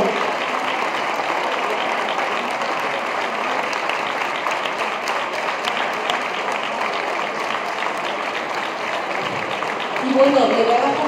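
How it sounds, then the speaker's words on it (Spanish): Sustained, dense applause from an audience at the Día de la Sierra gathering in Cantalojas, honoring Raimunda Gómez and the mountain villagers of the year. It holds steady throughout and swells briefly near the end, where a voice breaks in. "un fuerte aplauso para Raimunda Gómez y para todos esos serranos del año"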